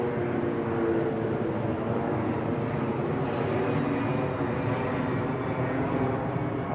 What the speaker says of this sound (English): I've got a bloody plane flying over now.